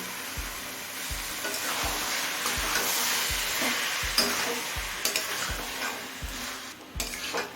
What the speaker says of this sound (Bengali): এঁচোড়টা দিয়ে সব কিছুর সাথে নাড়াচাড়া করে মিশিয়ে নিয়েছি